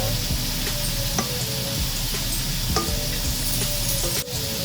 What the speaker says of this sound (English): We're gonna go ahead and cook our crab meat and shrimp until the shrimp is done.